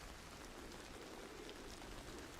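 Rain in the video game Hunt Showdown, a soft, even patter of rain on surfaces, faint and unbroken throughout.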